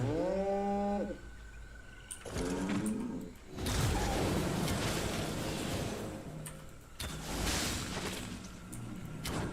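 A cow moos loudly in the video game Albion Online, one long deep call, followed by rumbling, shuffling noise and bursts of movement sound.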